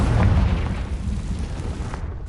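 A deep, booming blast from the Confringo spell in a Harry Potter video game, starting loud and rumbling away over a couple of seconds, with no talking.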